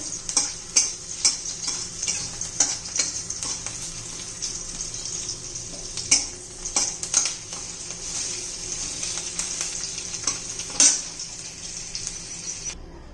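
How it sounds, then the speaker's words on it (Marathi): Garlic fries in hot oil for a spicy chili pickle. There is a steady, quiet sizzle with frequent light clinks and scrapes of stirring throughout. "तेल गरम करून थोडासा फ्राय करून घेऊया आपण लसूण"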